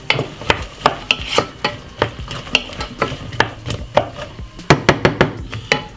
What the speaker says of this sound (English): So we're going to give it a stir.